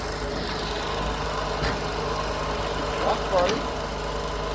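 A wrecked 2003 Honda Civic with a VTEC engine, left sitting for over ten years, idles steadily with a constant low hum close by, and a person talks briefly over it.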